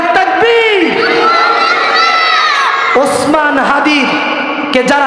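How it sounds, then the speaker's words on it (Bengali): A large crowd chants the Nara-e-Takbir slogan loudly, a dense wall of massed voices that rises in long sustained shouts, with a brief break and a fresh swell partway through. "দেখা যাক নারায় তাকবীরের ধ্বনি কিরকম হয়"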